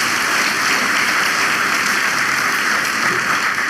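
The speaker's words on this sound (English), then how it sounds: "you deserve one good round of applause for the entire team of Thai" Loud, even applause from an audience at an innovation summit, a thick continuous hiss of many hands clapping that holds steady throughout with no pauses or speech.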